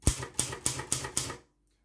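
Five crisp, evenly spaced clacks of Silver Reed manual typewriter keys strike close by, then silence.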